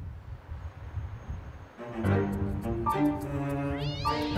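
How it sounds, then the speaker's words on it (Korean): Tomcats fighting at close range, yowling in drawn-out wavering cries rising in pitch over a low rumbling growl. "달려들어 싸우는 고양이들."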